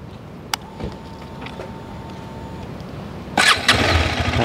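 A KTM 250 Adventure motorcycle's engine cranks and catches after a quiet stretch with a few clicks and a faint electronic tone, then settles into a close, rough running rumble.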